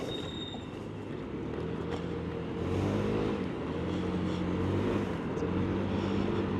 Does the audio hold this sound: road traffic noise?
yes